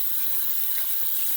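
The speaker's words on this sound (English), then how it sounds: "So I'm gonna put some cold water on my brush." Cold tap water running onto a shaving brush at a sink, a steady hissing stream heard close and alone throughout.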